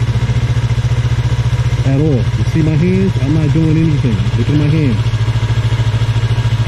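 A motorcycle idles steadily and rolls at about 5 mph with no throttle applied, its low engine thrum constant while someone talks over it.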